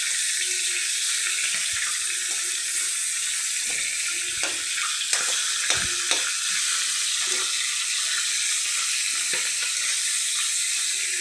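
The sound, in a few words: katla fish heads frying in a pan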